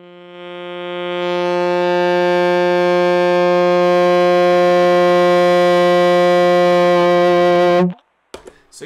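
A sustained saxophone note through a Keeley Stahlhammer distortion pedal swells louder and grows harsher and buzzier over several seconds as the pedal is turned to max, then cuts off abruptly, followed by brief faint noises.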